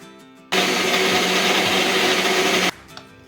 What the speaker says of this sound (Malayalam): അപ്പോൾ ഇനി നമുക്കത് മിക്സിയിലിട്ടൊന്ന് അരച്ചെടുക്കണം